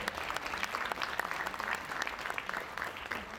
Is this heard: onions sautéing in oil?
no